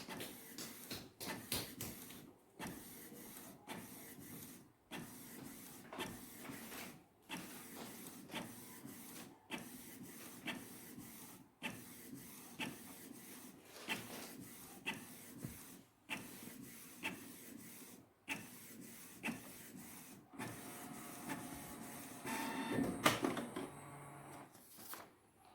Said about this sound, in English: It started printing.